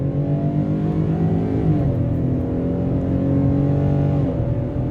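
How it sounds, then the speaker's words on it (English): A 2021 Ford F-150 XLT pickup with a naturally aspirated 3.3-litre V6 accelerates at full throttle, a loud, steady engine roar with rising harmonics and a gearshift dip midway, heard from inside the cab with no talking. "I'm gonna floor it now."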